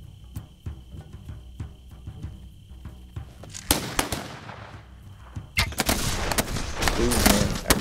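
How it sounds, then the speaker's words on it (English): Gunfire in the video game This Land is My Land: a series of separate distant cracks gives way to louder, denser volleys of shots with booming, crackling impacts toward the end. "I think they're just shooting"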